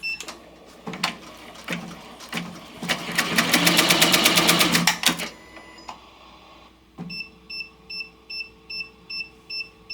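A Ricoma MT 1501 commercial embroidery machine with a faulty thread-break sensor stitches in rapid mechanical bursts, then sounds a steady series of repeated electronic beeps, loud and close with no voices.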